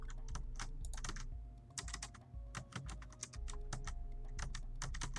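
Quick, uneven keystrokes rattle on a computer keyboard in bursts, close and quiet, with a short pause partway through.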